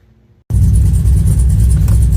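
A Cadillac with transmission trouble starts up after brief quiet, its engine settling into a loud, steady low rumble with slight revving swells, close and alone.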